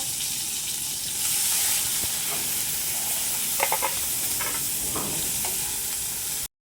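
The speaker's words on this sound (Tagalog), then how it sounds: "Ilagay ang sibuyas at kamatis. Lutuin ito." Onion and tomato fry in a pan with a steady close sizzle and a few short stirring scrapes near the end, no voices present.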